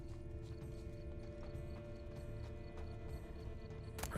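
Roach the horse trotting in The Witcher 3, rhythmic clip-clop hoofbeats over a steady ambient game soundscape, moderately close and unbroken, with a brief louder burst at the end.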